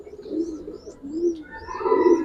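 Young female Giribaz pigeons coo nearby in soft, low, repeated warbling calls, with faint chirps in the background.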